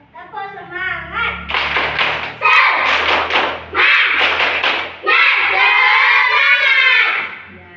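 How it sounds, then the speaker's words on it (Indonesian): A class of children does a rhythmic spirit clap led by a teacher, with bursts of claps, taps and thumps mixed with shouted chanting voices, loud and close throughout. "Baik, sebelum memasuki materi, kita tepuk semangat terlebih dahulu."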